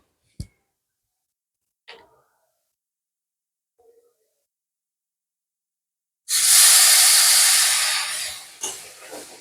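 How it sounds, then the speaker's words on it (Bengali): Water poured into a pan of frying potatoes bursts into a loud, sustained sizzle that fades after a few seconds, preceded by a few sharp clinks and taps, with no talk. "যার জন্য আমি জলটা ঢেলে দিলাম"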